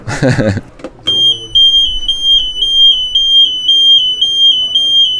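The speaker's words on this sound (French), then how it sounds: "il faut que j'aille éteindre mon réveil" An electronic alarm clock on a sailboat rings with rapid, regular high-pitched beeps that keep going steadily, loud and close, after a short burst of talk at the start.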